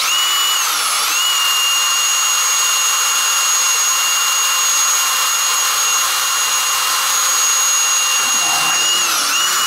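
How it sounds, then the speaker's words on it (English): A power drill drilling into old wood whines steadily at high pitch for nearly ten seconds, loud and close, with a brief pitch dip near the start and end as it bites in. "He's gonna drill into that one."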